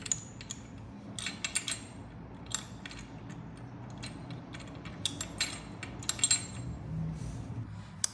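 Metal bolts and small parts are handled while fitting a kickstand extender cover onto a 2024 Kawasaki Eliminator 500 motorcycle, giving light, scattered metallic clinks and ticks over a steady low background hum.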